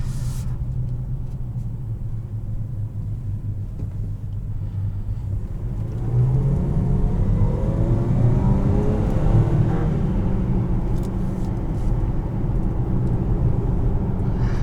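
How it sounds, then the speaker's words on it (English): The supercharged engine of a 2019 Land Rover Discovery Trek Special Edition heard from inside the cabin: a low, steady rumble that swells about halfway through as the engine pulls harder, with a faint whine riding on top. No one speaks. "You could hear the supercharger."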